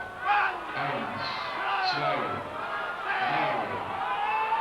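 A wrestling arena crowd roars and shouts during a CWA match, with a loud swell near the start and further surges, under a commentator talking.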